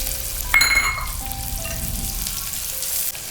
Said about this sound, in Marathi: जेव्हा आता आपण हा कांदा परतत असतो तेलात